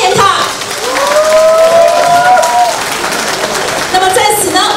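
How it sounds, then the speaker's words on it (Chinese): A ceremony audience applauds to welcome a guest, a broad wash of clapping from a crowd, fairly loud and sustained, with a tonal whistle-like squeal and voices over it. "我们掌声欢迎他"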